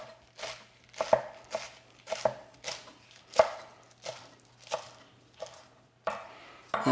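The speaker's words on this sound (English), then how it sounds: "And we're just slicing it nice and finely." A knife finely slicing vegetables for pasta sauce on a board, making a steady series of crisp, evenly spaced chops close by, about one or two per second, with no talking.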